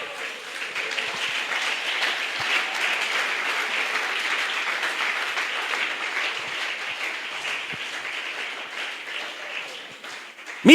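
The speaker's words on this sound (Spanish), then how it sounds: "Un aplauso, ¿no?" A church congregation applauding together, a dense, steady wash of clapping that fills the whole stretch at even strength and breaks off abruptly near the end.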